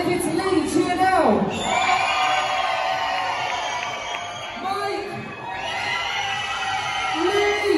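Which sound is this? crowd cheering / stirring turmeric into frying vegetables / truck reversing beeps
crowd cheering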